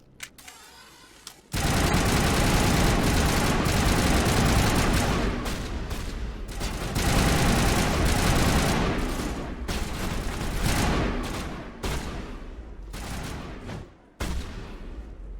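Sustained video game gunfire from Mass Effect Legendary Edition, dense rapid bursts and booms forming a loud continuous barrage with brief dips, no talking.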